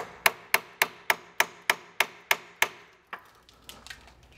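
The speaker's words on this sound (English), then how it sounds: "I'm just gonna go ahead and tap it with this hammer." A hammer taps a bolt on a BMW E36 strut, about nine sharp, evenly spaced metallic knocks, close and clear, followed by a few lighter, irregular taps and clinks.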